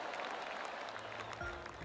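Soft, steady crowd applause from a golf gallery in PGA Tour 2K23, heard faintly and continuously through the short stretch with a few brief tones near the end.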